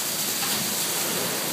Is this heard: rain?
yes